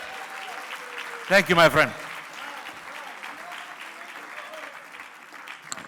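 Steady applause from a crowd at a banquet fills the room, with a brief burst of cheering and someone speaking over it.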